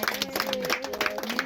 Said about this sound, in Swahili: Tumpigieni makofi Jonte.